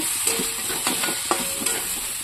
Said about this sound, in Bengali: এক হাতে মানে আমটা নাড়াচাড়া করছি, যার জন্য কড়াটা ঘুরে যাচ্ছে